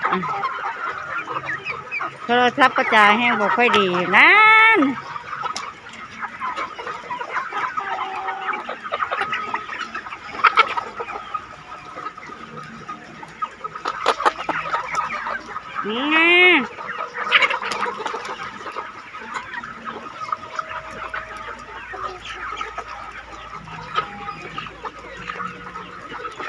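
Chickens on a small farm cluck and crow in several loud bursts, close by, with someone talking in between.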